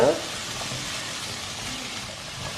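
Cut apples sauté in butter in a pan, giving a loud, even close-up sizzle that holds steady throughout, starting with a brief brighter burst.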